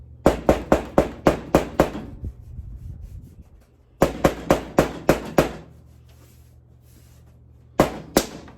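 Sharp rapid hammer taps on 5/32 rivets set into the door panel of a 1964 Airstream Globetrotter, two quick bursts of about seven close, loud strikes each, a pause between, then two more taps at the end.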